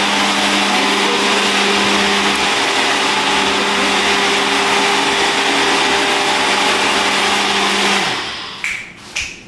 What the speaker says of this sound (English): This is a weird blender.